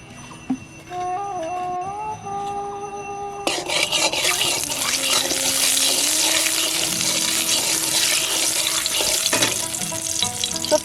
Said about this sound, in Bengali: কড়াই গরম হয়ে গেছে, অল্প একটুখানি তেল দেবো, সরষের তেল